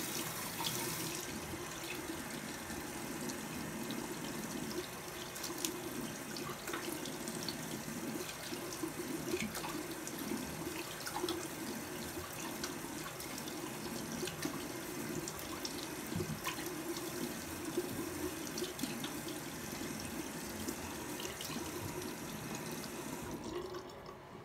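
Tap water running steadily into a sink while face product is rinsed off, a continuous even rush of splashing water, close and unbroken.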